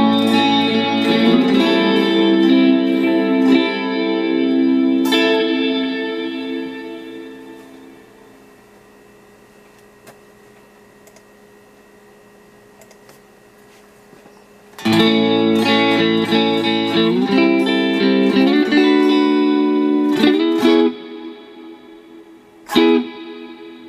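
Reverb from an IK Multimedia Amplitube 5 rack unit colours sustained, layered electric guitar chords that ring out and decay slowly into a fading tail, then return in fresh strummed bursts with short plucked notes near the end.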